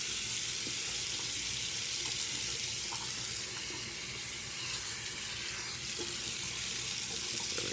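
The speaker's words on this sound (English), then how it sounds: "Then I just run this underneath and let it take in some of that hot water." Hot tap water running over a beard towel, a dense continuous hiss and patter of water soaking fabric, close and steady throughout.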